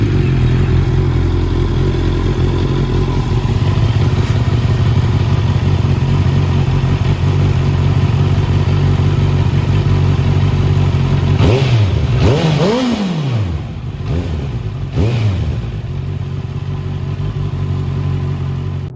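A Honda CB650R motorcycle idles with a steady, close engine rumble, then revs sharply a couple of times in quick rising bursts before settling back to idle.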